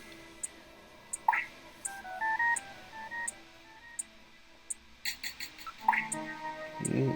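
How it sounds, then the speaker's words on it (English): Video phone dialing in the Snatcher video game: a series of short electronic beeps and tones, fairly faint and spaced irregularly over a quiet background, with a brief louder burst near the end. "Video phone."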